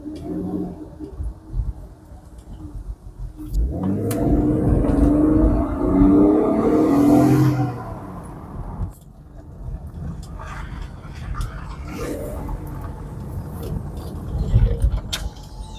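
A 2004–2010 BMW X3 E83 backs up and then pulls away, its engine swelling to a steady, fairly loud drone for several seconds before easing off and idling on with a lighter hum.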